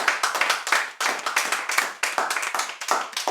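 A worshipping congregation claps and cheers for the Lord in a steady run of hand claps. The claps are sharp, dense and close, with voices rising in the mix, and they carry loud throughout the stretch.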